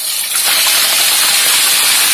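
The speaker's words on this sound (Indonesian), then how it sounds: "ini kita goreng dulu ayam" Chicken pieces frying in hot oil for Manado-style spiced chicken, a loud, dense, continuous sizzling hiss close up, steady throughout with no voices.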